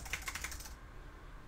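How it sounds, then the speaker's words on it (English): Quick keystrokes on a Mac computer keyboard make a brief flurry of light, close clicks, then stop and leave quiet room tone. "if I now start typing away,"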